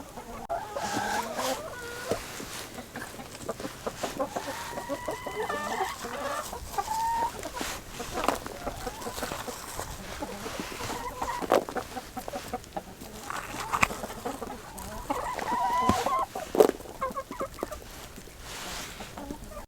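Backyard chickens cluck and chatter steadily at close range in their coop, several birds overlapping in a busy, continuous murmur with occasional louder squawks.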